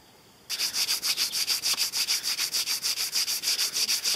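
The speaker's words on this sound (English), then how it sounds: "Now there's a lot of sanding to get all the high points off and remove all the marks from the carving" A hand-carved wooden spoon is sanded after a brief quiet start, with fast, even back-and-forth abrasive strokes in a steady rhythm, close and fairly loud.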